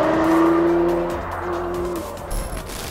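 A Ford GT sports car's engine drones loudly at speed with a sustained tonal note that falls away after about two seconds, followed by a brief rush of road noise.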